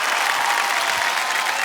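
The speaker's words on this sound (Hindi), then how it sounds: "तालियां बज जाए इनके लिए।" A studio audience on a TV quiz show bursts into sustained, dense applause, steady and full throughout the short moment with no break.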